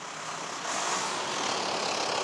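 A ride-hailing car's engine pulls away on a Paris street, a steady broadband engine and road rumble that swells slightly after the first half second and holds loud and near for a couple of seconds, with no talking.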